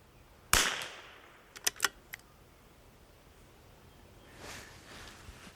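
A rimfire rifle fires one sharp shot outdoors, followed by a few fainter clicks of the action being worked, then quiet air with a little wind.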